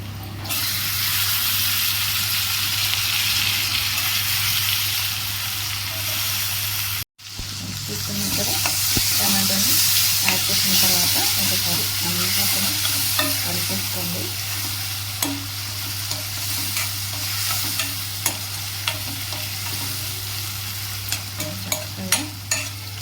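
Tomatoes fry in a pan for a brown rice mushroom pulao, a loud continuous sizzle with stirring scrapes and clicks, briefly cut off for a moment before resuming, with a steady low hum beneath.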